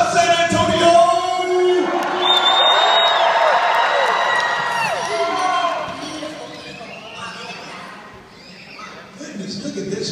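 Audience at The Walking Dead convention panel in San Antonio erupts in loud cheers, whoops, whistles and applause, peaking early then thinning into scattered shouts toward the end.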